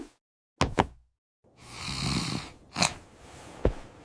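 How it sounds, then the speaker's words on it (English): Snoring at night, a few short nasal snorts followed by a long rasping inhaled snore and another snort, close and fairly loud, with brief silences between. "I snore at night."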